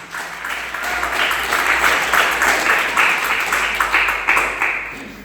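Church congregation giving a loud, sustained round of applause, dense clapping from many hands that swells and continues steadily without speech.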